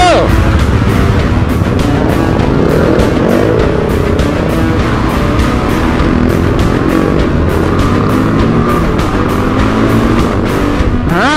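Dual sport motorcycles ride off road, engines droning loud and steady for the whole stretch with rising and falling revs, close and continuous.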